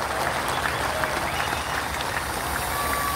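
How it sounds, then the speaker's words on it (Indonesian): Applause from a large crowd of party members at a political rally, steady dense clapping filling the whole stretch at close range with no talk over it. "Tepuk tangan buat warga PKS semua."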